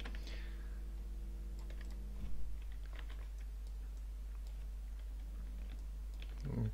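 Computer keyboard Alt key presses and mouse clicks while vector grass shapes are dragged, giving faint, sparse clicks and taps over a steady low hum, with a slightly louder cluster of clicks midway and near the end.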